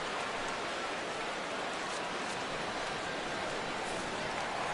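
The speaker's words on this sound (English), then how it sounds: "And Dan, when it comes to pitching in the rain, what changes?" Steady broadband rain hiss from a baseball video game on PS4, constant and even across the whole stretch with no talk over it, a dense wash of falling rain.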